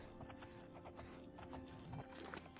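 Horse hooves clip-clopping in The Elder Scrolls IV: Oblivion, a quiet steady rhythm of footfalls under faint game ambience, with no talking.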